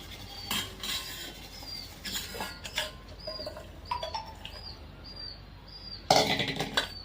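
Food being stirred in a pot and scooped into a bowl, heard as scattered metal utensil clinks and scrapes at low level, with a louder clatter near the end and no talk.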